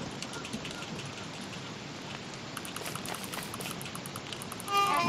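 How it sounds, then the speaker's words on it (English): Steady rain in the game Don't Starve patters and hisses throughout, with faint clicks near the end and a louder shift just before it finishes. "Come on, Rain, go away. Go away, Rain."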